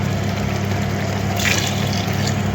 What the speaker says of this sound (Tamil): 2 கிளாஸ் தண்ணி ஊற்றணும்.